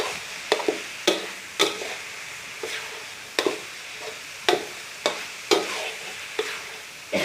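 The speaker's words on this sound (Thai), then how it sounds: "ผัดให้มันแห้งก่อน ไม่งั้นไม่ใช่คั่วกิ้งต้องผัดไป ผัดมาให้หมูกิ้งไปกิ้งมา" Minced pork for khua kling stir-fried until dry, with a spatula striking and scraping the pan in a steady rhythm of sharp clacks over a continuous close sizzle.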